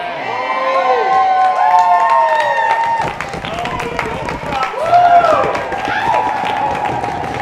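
Lively crowd at an evening speech event clapping and cheering, with high whoops and shouting voices over scattered claps, swelling in bursts and echoing in a reverberant hall.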